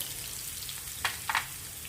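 Red and green chillies and asafoetida sizzle in hot oil for a dal pakwan tempering, a soft steady frying hiss with a couple of small pops. Faint and close, with no talk.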